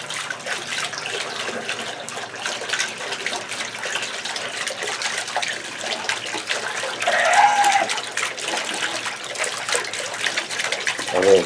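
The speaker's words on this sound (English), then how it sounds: "And that's that running water." Tap water runs in a steady broadband rush on a porch setting, continuous and fairly close, with a slight swell in the middle and no talking.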